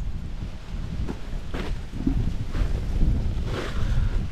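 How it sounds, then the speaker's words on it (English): Strong wind blows outdoors over a village yam-planting field in Fiji, a constant heavy rumble buffeting the microphone, with gusts swelling louder toward the end and no speech. "It's very windy, the plastic is flying away."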